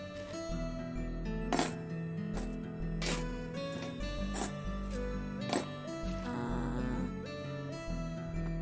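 Metal utensils clink and rattle as they are set into a kitchen drawer. Several bright, sharp clatters sound close by over a steady droning tone.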